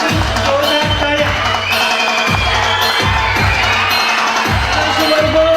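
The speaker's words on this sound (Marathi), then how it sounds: "यांच्यासाठी जोरदार टाळ्या." Crowd applause and cheering from the audience at a school annual gathering and prize-distribution ceremony in Solapur, with steady rhythmic clapping and children shouting throughout, loud and sustained for the whole stretch.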